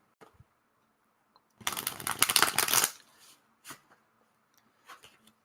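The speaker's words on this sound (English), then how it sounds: "let's just throw some cards down" Playing cards are riffle-shuffled in a quick, crisp burst of about a second, then dealt and laid down with a few soft, separate slaps in an otherwise quiet room.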